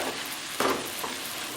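Oyster mushrooms and young ginger stir-frying in a pan: a soft, steady sizzle with one brief stirring scrape, fairly quiet and without speech.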